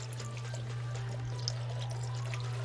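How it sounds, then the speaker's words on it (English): Chicken broth is poured into an Instant Pot, giving a soft, continuous liquid pour. It is faint beneath a steady low electrical hum. "We're just going to pour it till it's right on top."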